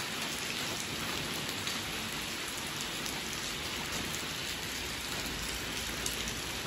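Heavy rain pours steadily during a flooding downpour, water already reaching the front of a house on a dark street; a dense, continuous hiss of drops on surfaces fills the whole stretch with no voices.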